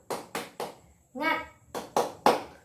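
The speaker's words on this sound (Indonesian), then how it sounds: "Tepuk semangat" Rhythmic group clapping in a Tepuk semangat cheer: three sharp claps, a short chanted call from the group, then three more claps, close and crisp.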